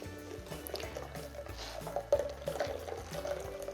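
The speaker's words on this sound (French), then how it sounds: "L'idée, c'est de récupérer tous les petits morceaux dans le petit sac à lait et d'avoir que la partie liquide." Homemade hemp milk is strained through a milk bag, and the liquid runs and drips steadily into a container below, with a continuous trickling wash and a few louder splashes.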